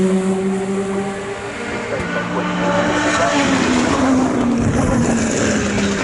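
Vintage Aston Martin sports racing cars at full throttle through Hollywood corner at Donington Park during endurance legends qualifying, a steady loud engine roar with a pitch that slides down as the cars pass, heard alone.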